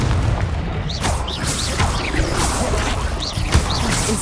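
A Confringo blasting spell bursts in Hogwarts Legacy, giving repeated booming impacts layered over dense, crackling game effects for the whole stretch.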